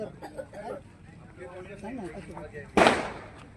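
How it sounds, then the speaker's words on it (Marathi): A Diwali firecracker goes off with one loud, sharp bang that decays into a crackling tail, following outdoor talk from people nearby. "फाटकन उडवायचा फाट फाट आवाज मोठा आहे"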